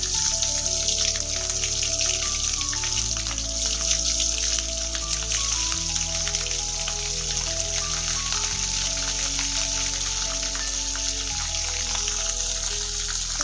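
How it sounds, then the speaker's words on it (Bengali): Hilsa fish rubbed with salt and turmeric fries in hot oil in a village-style kitchen, giving a steady, dense crackling sizzle throughout. Sustained tonal music plays underneath. "সেটাকে ভালো করে একটু নুন আর হলুদ মাখিয়ে নিয়ে এখন হচ্ছে ভাজা করে নেব।"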